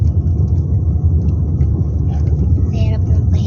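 A car climbing a steep winding road near Calamba, Laguna with the air conditioning off, its engine laboring in a continuous loud low rumble beneath occasional speech.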